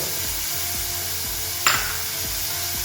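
Spices and ginger-garlic paste sauté in a pan for a Malvani dish, with a constant close sizzle and one sharp utensil clink partway through and no talking.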